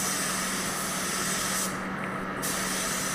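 Steady hiss of a spray gun laying a light coat of paint on a Vauxhall Astra, continuous and fairly loud with no talking, briefly thinning partway through.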